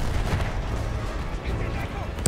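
Dynamite blowing up a weapon in Battlefield 1 gives a heavy, rumbling explosion with rolling booms and crackle lasting a couple of seconds, loud and close, with a voice speaking over it.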